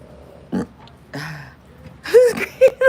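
A woman burps several times in short, loud croaking bursts, with a long belch in the middle and two quick ones at the end, between stretches of quiet.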